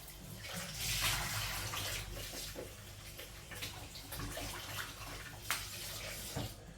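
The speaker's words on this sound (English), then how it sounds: "So now I'm going to rinse them off." Tap water runs steadily into a kitchen sink while raw shrimp soaked in vinegar water are rinsed, a continuous splashing hiss with small clatters and bumps as they are handled.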